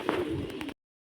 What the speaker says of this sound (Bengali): এই খোপে আমি পায়রা রাখছি, বাচ্চা পায়রা রাখছি